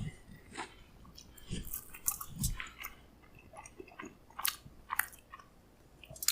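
Plain naan bread being chewed up close, with soft bites and squishy, crunchy chewing sounds coming in irregular bursts and no talking.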